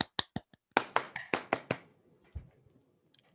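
A small online audience claps by unmuting to welcome Professor Daniel Lidar: about eight sharp, close hand claps in the first two seconds, then near silence with a faint tap at the end.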